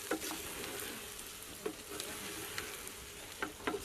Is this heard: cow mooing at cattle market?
no